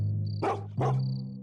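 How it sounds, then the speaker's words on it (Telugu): A dog gives two quick, sharp barks in a row, close and clear, over a faint steady hum. "అప్పుడు వాళ్ల మీద ఒక కుక్క అరుస్తుంది"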